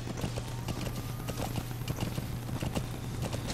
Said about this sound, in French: Il est complètement fou le cheval.